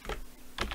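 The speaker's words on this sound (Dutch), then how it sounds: "Ik kan die typen" Two quick bursts of computer keyboard typing, soft and close, with a brief pause between them and no talk.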